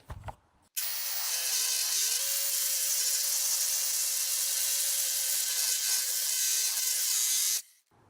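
Angle grinder fitted with a flap disc grinding scale off a Damascus steel billet, a loud, steady high whine that starts abruptly after a short pause and runs unbroken for several seconds before cutting off.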